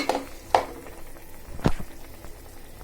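Cut taro roots tipped into a pan of frying masala, a few sharp clatters and scrapes over a low, steady sizzle.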